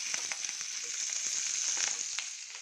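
Five green chillies fry in a little oil, giving a steady close sizzle with scattered crackles and pops throughout.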